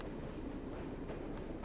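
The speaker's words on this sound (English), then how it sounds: "It's a slow boy. It's a slow moving train." A slow-moving train in Assassin's Creed Syndicate gives a steady low rumble with a faint rhythmic clatter of wheels, loud and continuous and close by, with no talking.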